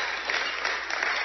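Audience applause, a brief dense burst of clapping from a crowd at steady loudness, heard alone for just over a second.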